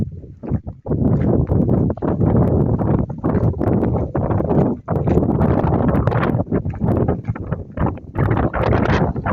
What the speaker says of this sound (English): And once again, the wind's getting up.